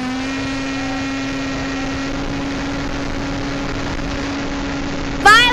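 A Sky Surfer v5 model airplane's engine runs steadily at a constant pitch for several seconds, loud and close, then shifts abruptly at the very end with a brief rising whine.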